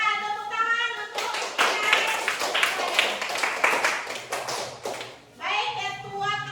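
Schoolchildren in a classroom clapping for their class leader, a brisk run of close, sharp handclaps between a teacher's speech before and after.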